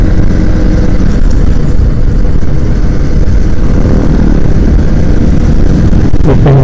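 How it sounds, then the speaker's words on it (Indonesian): Bajaj auto-rickshaw engine running in Indonesian traffic, a steady loud low rumble that continues without a break, mixed with wind buffeting and road noise, with no talking. "ternyata depan gua bajai bunyi"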